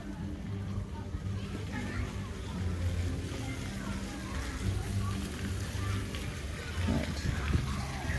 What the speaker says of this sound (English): splash pad and the various water squirting and fountain type elements to it